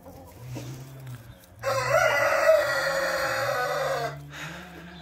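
Rhode Island and Brahma hens cluck in low, rising and falling calls close by, with a loud, harsh, sustained burst of noise in the middle.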